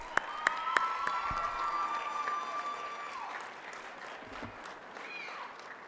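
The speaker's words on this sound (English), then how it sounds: "please give me another round of applause for these talented gentlemen" Crowd at a Mr. Scorpion talent competition applauding and cheering contestants, a few sharp early claps, then steady clapping with whoops and a sustained shouted cheer, fairly faint overall.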